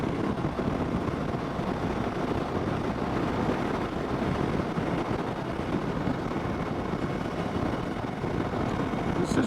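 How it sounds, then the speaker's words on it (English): Strong wind roars steadily across the microphone outdoors on a windy stretch ridden on a Suzuki V-Strom 650 motorcycle, a loud, continuous rumbling buffet with no pauses. "This is pretty windy out here."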